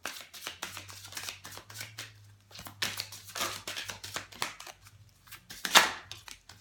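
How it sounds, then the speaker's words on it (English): Tarot cards riffled and shuffled several times in quick papery bursts, close up, with a sharper snap near the end and a low steady hum beneath. "I'm gonna shuffle one more time"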